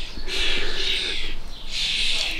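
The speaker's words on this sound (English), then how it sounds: "20 adults and probably 30 young starlings in the garden then" A flock of about twenty adult and thirty young starlings in a garden gives repeated high chirps and chatter, loud and close, in two dense bursts with a short lull between them.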